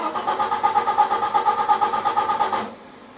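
A hot Citroen XM 3.0 24V engine cranks with a rapid, even rhythmic chug for over two seconds, then cuts off abruptly, close and loud, with no one talking.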